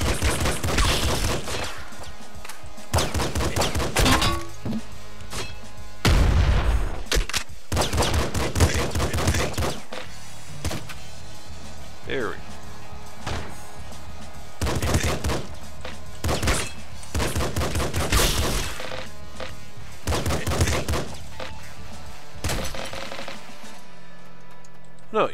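A grenade launcher firing in the video game Nuclear Throne, with dense bursts of loud explosive shots and rapid gunfire, a steady barrage of thumps and blasts mixed with a voice.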